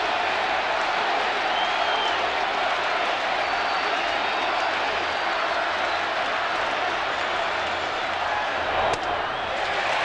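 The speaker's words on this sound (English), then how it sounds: "Crowd chanting, Javi, Javi." Baseball stadium crowd at the 1995 World Series Game 6 in Cleveland, Braves at Indians, chanting and roaring in a dense, sustained wash of noise that stays loud throughout, with a sharp thud near the end.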